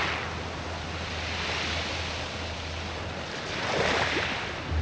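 Sea waves at a beach camp, Camp Tawid in Mauban, Quezon, wash in as soft, distant surf with a low steady hum and gentle swells. A slightly louder surge arrives near the end, and no one speaks.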